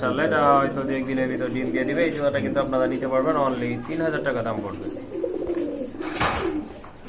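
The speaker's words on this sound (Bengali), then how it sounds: "এখানে কিন্তু বড় পায়রা" Pigeons cooing at a pigeon market stall, low soft coos running under continuous close conversation between men bargaining.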